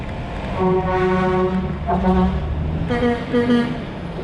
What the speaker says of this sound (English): I give the air horn a little honk